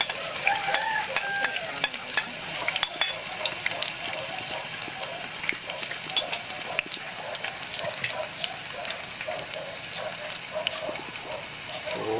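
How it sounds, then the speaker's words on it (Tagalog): Chopped onion and garlic sauté in hot oil in a pan, giving a steady close sizzle with crackles and a few clinks of stirring, and no voices. "Habang tayo guys na nagigisa nitong sibuyas sa bawang"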